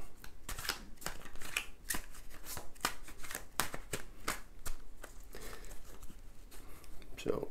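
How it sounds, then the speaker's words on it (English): Tarot card deck is shuffled up close in rapid, repeated riffling bursts of crisp card snaps and fluttering, a steady rhythm of papery slaps throughout. "I will do that by shuffling the deck."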